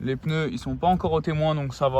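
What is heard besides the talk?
No everyday noises stand out.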